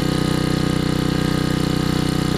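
A Generac generator engine runs steadily with a newly installed carburetor, its close, loud, even idle chugging continuously with no voices.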